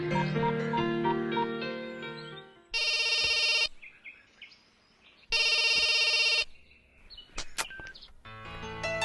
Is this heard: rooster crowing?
no